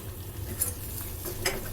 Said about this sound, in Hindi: ये देखिए, अच्छे से हम इसको चलाते रहेंगे,